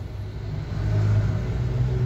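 Heavy street traffic in Governador Valadares, Brazil, with motorcycles tearing past, a steady close rumble of engines swelling as vehicles pass.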